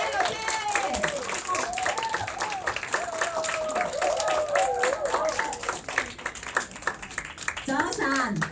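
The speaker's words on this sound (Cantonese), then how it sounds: "你哋俾個掌聲應該係點啊？" Clapping from a seminar audience welcoming two instructors runs as a steady patter beneath a speaker's voice, with a voice cutting in near the end.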